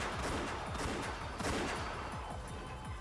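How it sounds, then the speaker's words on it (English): Continuous rapid gunfire with overlapping bursts of shots, loud and sustained throughout, like a busy firefight in a video game. "As soon as I heard the sound of repeated gunfire, I knew."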